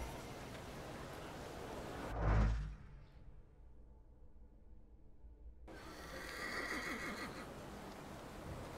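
A horse whinnies loudly in The Thaumaturge, a single rising neigh set in the game's ambient background, then fading into a quiet lull before the ambience swells again.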